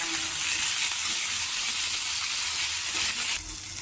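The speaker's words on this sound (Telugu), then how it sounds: "ఇంకా చింతపండు లేకుండా సరిపోతుందని ఇలా టమాటాలు వేసి కొద్దిగా మగ్గించుకోవాలి." Tomatoes sizzling in a pan while cowpea curry cooks: a steady, loud, bright hiss that runs continuously and eases slightly near the end, with no voices.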